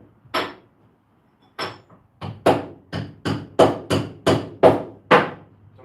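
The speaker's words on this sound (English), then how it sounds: "Let me try to just straighten this out here with a hammer." A hammer strikes a bent steel throwing knife to straighten it. There are two separate blows, then a steady run of about nine sharp, ringing metallic strikes, close and loud, with quiet gaps between them.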